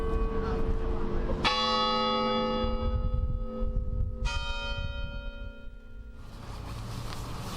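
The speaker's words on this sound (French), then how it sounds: "Les cloches de l'église ont sonné 39 fois pour honorer les fondateurs." Church bells ring out loudly at a ceremony honouring founding families. Two strong strikes start long, ringing overlapping tones over a constant rumble of background noise.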